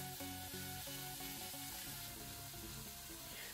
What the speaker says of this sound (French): je vais laisser rissoler pendant 2 minutes